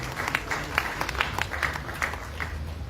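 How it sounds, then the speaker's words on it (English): Audience at a public event in Sierra Leone claps, a soft, distant patter of hands with irregular sharper claps standing out, fairly thin and faint. "Not everybody is clapping"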